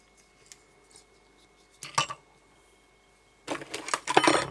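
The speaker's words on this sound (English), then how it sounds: "So I can just cut that off." Scissors trim the thread from a finished Willie Gunn Conebody Templedog salmon fly: one crisp snip, then a quick cluster of close metallic snips in an otherwise quiet room.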